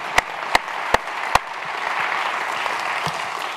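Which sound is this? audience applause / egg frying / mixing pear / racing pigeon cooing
audience applause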